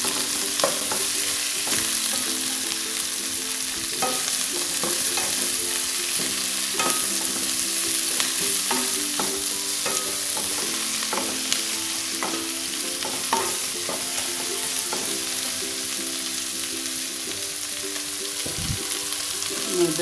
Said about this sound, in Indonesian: Aduk-aduk dulu ya sampai agak layu.